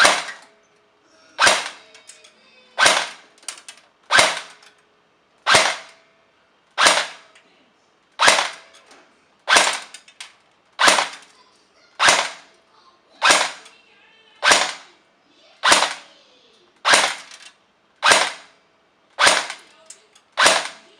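G&P Magpul PTS M4 airsoft rifle firing Elite Force 0.20 gram biodegradable BBs, about sixteen sharp single shots at a steady pace of roughly one per second, loud and close with no talking.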